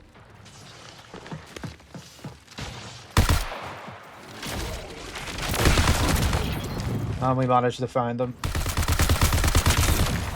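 Rapid gunfire and heavy bursts crackle almost continuously with booms and clanks in a PvP match of the video game Perimeter, while someone talks briefly at the start.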